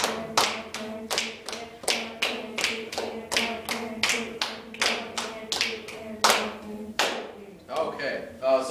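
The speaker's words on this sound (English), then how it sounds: "we're going to start clapping" Students in a music class clap a steady rhythm together, a run of sharp, evenly spaced claps close by that holds a regular beat and ends in a looser scatter.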